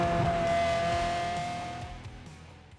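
A Ferrari 360 engine sings loudly as it pulls through the revs, a strong rising tone that holds and then fades away as the car moves off, with no voices.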